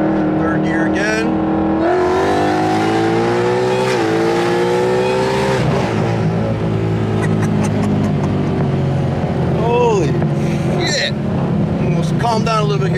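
A Ford Mustang S550 convertible accelerates hard in third gear, its engine note climbing loud and close from inside the car. Voices talk over the steady roar.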